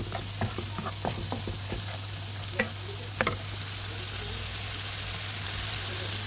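Turmeric, coriander, cumin and chilli fried with raw onion in a pan for beef brain bhuna, with sharp spoon scrapes and taps early on over a constant sizzle that continues evenly to the end.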